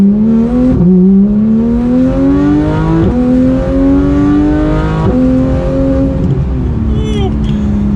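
A Porsche 911 GT3 of the 991 generation revs hard under acceleration, its engine note climbing steadily with quick drops at each gear change, loud and continuous throughout.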